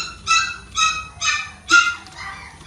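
Puppies yip and whimper in four or five high, whiny barks at an even pace, close by, with a faint low background hum and no talk.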